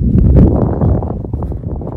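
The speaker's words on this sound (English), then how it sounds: "I really need to get myself a mic because the prairies are windy" Strong wind gusts across an open prairie cemetery, buffeting the microphone with loud, low rumbling bursts throughout.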